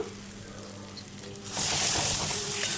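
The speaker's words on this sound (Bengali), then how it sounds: "এবার এইভাবে নাড়াচাড়া করে দু থেকে তিন মিনিট রান্না করে নেব" Taro paste with salt and turmeric stirred and cooked in a wok, starting as a quiet low sizzle, then swelling into louder, steady frying hiss with scraping stirs after about a second and a half.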